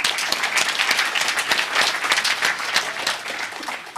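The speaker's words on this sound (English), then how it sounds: "Give yourselves a round of applause." Audience at a memory-training talk at a hacker conference bursts into steady, dense applause, many hands clapping loudly and evenly throughout with no voices over it.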